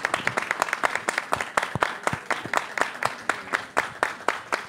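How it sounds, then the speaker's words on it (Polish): Audience applause at a theatre festival: a steady stretch of many hands clapping, dense and fairly close, with no voices rising above it. "że te brawa były słyszalne i dla widzów naszego studia festiwalowego"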